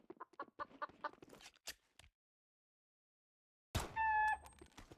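In the Matr1x Fire shooter game, a chicken lets out a quick, clear clucking call after a run of choppy game sounds and a silent pause.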